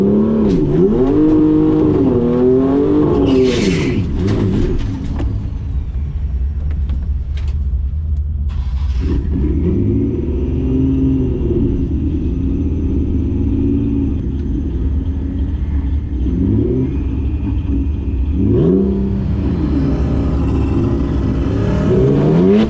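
Twin-turbo Nissan 370Z at a drag strip, its engine held near 4,500 rpm on launch control then surging through loud revving pulls with gear changes, a steady rumbling roar filling the whole stretch.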